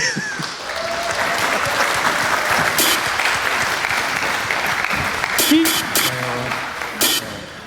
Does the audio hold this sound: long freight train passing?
no